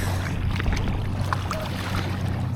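Beam seas slapping and washing against the side of a kayak during the Everglades Challenge between Fort De Soto and Cape Haze, a steady close rushing of water with a low constant rumble and no talk over it.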